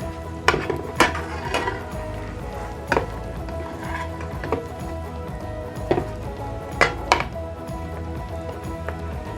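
A tortilla being flipped in a hot covered pan, with clattering knocks of utensil against cookware over a steady background sizzle and hum, several sharp taps spread unevenly through the clip.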